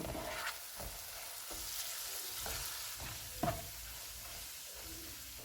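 Spices with ginger-garlic paste sizzle steadily in a hot pan, with a few soft scrapes of a spoon stirring through them.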